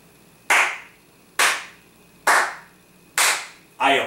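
Five slow, deliberate hand claps, evenly spaced about a second apart, loud and close with no other sound between them, given as sarcastic applause.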